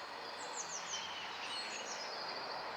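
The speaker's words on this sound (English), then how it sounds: "That's a blackbird. It's another blackbird." A blackbird sings in a park by a duck lake, a few quick high whistled phrases standing out faintly against steady outdoor background noise and distant birdsong.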